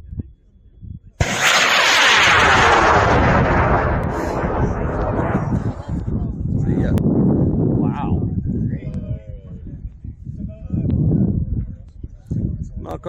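A K5-motor model rocket launches at an outdoor rocketry launch event with a sudden loud blast, then a sustained roaring rush that slowly fades into the distance under wind noise, with people talking over the tail.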